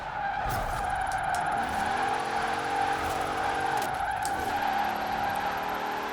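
A tuned Dodge Durango Demon build drifts in Forza Horizon 4, its tyres squealing loudly and steadily over a roaring engine whose pitch climbs and shifts through gear changes the whole time.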